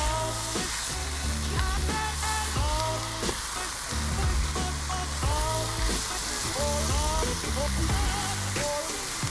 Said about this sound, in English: And you just want to keep stir frying this until that chicken is just cooked through.